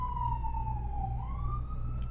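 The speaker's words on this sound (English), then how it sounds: "if you're wondering why there's sirens all the time, they live here, and that's just happening." An emergency siren sounds from near a fire station, its steady wail sliding slowly down and back up in pitch over a constant low rumble of traffic or engine noise, with no one talking.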